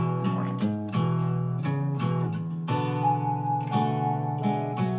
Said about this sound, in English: So that electric piano is from Logic.